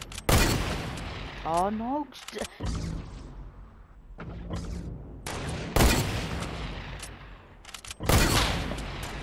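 Fortnite gunfire sounds as several loud, sharp shots with short echoing tails, spaced a few seconds apart, mixed with game effects and a player talking between the bursts.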